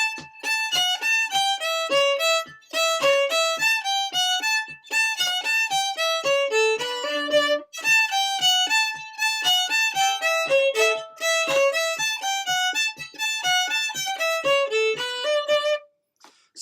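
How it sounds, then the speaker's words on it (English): Acadian-style fiddle plays a quick syncopated passage, rocking the bow between strings with faint ghost bows filling the gaps, bright and steady for about fifteen seconds before stopping. "especially Acadian syncopation, is based around those kind of rocking the bow movements and using these ghost bows"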